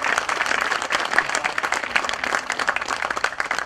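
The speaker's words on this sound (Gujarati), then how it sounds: "જોરદાર તાળીઓ પાડો આ બાળકો માટે યાર." An audience at a literature festival applauds children, a close, dense burst of clapping that runs steadily throughout without voices.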